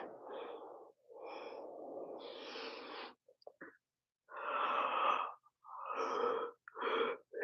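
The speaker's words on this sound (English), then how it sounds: "See how I'm yawning." Someone yawns and breathes heavily during a gentle stretching workout, long airy exhalations and wheezy breaths in several close, drawn-out bursts with brief gaps.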